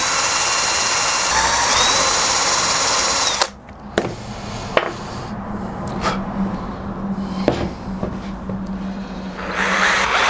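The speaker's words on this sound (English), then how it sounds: "And then I'm just going to drill 2 fresh holes." A power drill whines steadily and loudly before cutting off, then a quieter stretch of clicks, knocks and faint motor hum follows as it drills fresh holes.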